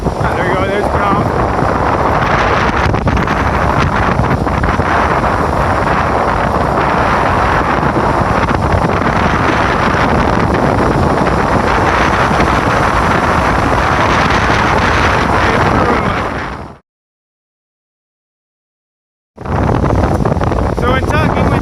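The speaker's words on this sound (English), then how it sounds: "it's supposed to be windy today, obviously. 70-mile-an-hour gusts" Strong gusting wind batters the microphone on an Appalachian Trail mountain path, a loud continuous roaring rumble that fills the recording, broken by a brief total dropout before resuming.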